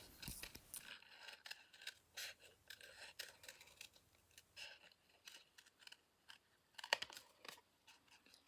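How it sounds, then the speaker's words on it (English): Scissors snip through card during a papercraft session, with a series of quiet, uneven cuts and crisp clicks while the card is turned, plus one sharper snip near the end. "I'm moving the card rather than the scissors. Just makes cutting out a bit easier."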